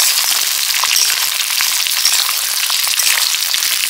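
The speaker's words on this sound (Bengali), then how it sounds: "লাল করে ভেজে নিয়েছি একদম ছাক্কা তেলে।" Pointed gourd (parwal) fries in deep oil with a loud, dense, continuous sizzle and crackle. It stays close and steady throughout, with no voices.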